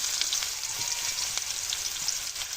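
Chopped onion sizzling in hot oil in a wok, a dense, even hiss with faint crackles, close and steady, no voices.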